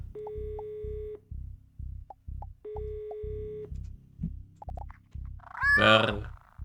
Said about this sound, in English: The dinosaur picks up her phone and calls her cute cat Mr. Robson